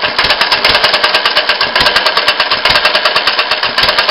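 A rebuilt open crank engine fitted with a vaporizer system runs steadily in cold weather, loud and close, with a rapid rhythmic chuffing beat and regular sharp exhaust pulses.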